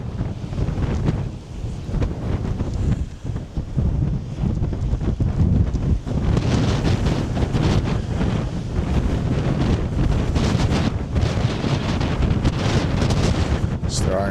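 Strong wind buffets the microphone outdoors on Orkney, a loud continuous roar with gusty surges that grow stronger partway through and last for the whole stretch.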